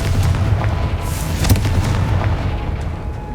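A Confringo blasting spell detonates in Hogwarts Legacy, a deep rumbling boom with crackling debris that rolls on loudly and steadily through the whole moment.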